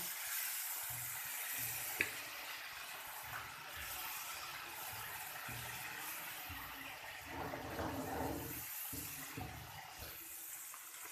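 Spices frying for a Punjabi-style cauliflower and tomato dish, with a little water poured in, giving a steady soft sizzle and hiss that swells and crackles midway, fairly faint and continuous, no talking.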